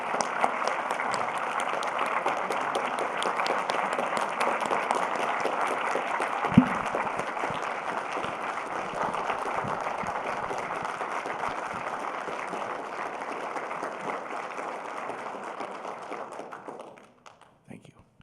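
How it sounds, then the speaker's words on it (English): A crowd applauds Jude at his Eagle Scout court of honor, a steady wash of clapping that holds for about sixteen seconds before tapering off, with one sharp louder clap partway through. "Please give Jude a round of applause."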